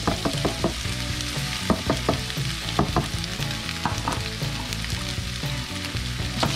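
Potato and sweet potato frying in a pan for adobo with mushroom, a steady close sizzle broken by repeated sharp clicks and scrapes of stirring.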